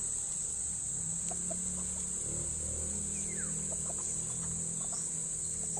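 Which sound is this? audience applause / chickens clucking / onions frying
chickens clucking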